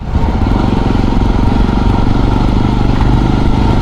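A motorbike engine drones loud and close while riding along the roadside through heavy traffic, a steady low rumble with no break.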